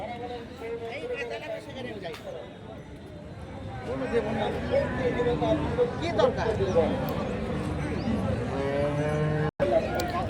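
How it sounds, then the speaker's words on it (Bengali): Busy cattle market in the Panchbibi border area west of Bogura, with bulls mooing amid a dense crowd murmur of voices and trading chatter, people talking throughout. "এই পাঁচবিবি হাটটা হচ্ছে বগুড়া থেকে পশ্চিম পাশে সীমান্ত এলাকার হাট"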